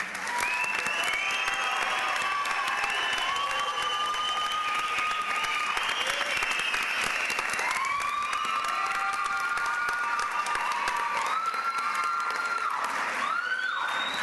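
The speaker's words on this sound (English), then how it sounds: "So let's give one more round of applause." Sustained audience applause fills a high school graduation ceremony, loud and continuous throughout, with cheers and a few whistle-like tones rising above the dense clapping.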